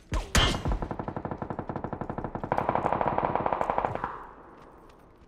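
Rapid automatic gunfire in the battle royale game PUBG, loud bursts of evenly spaced shots with echo, one long run that shifts tone midway before fading out, no voices.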